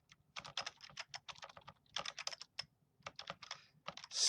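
Typing on a computer keyboard while working in STATA: quick bursts of crisp key clicks in short irregular runs separated by brief pauses, close and clear with no talking.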